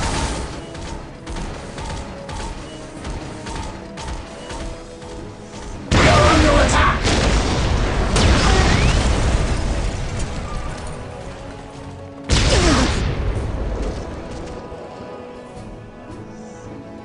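Battlefield gunfire and explosions from Dawn of War Dark Crusade: scattered shots and pops give way to two heavy blasts with long rumbling, crackling tails, one at the six-second mark and another past twelve seconds.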